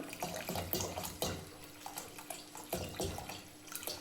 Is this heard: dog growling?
no